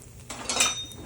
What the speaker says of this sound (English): let me go ahead and get my spatula.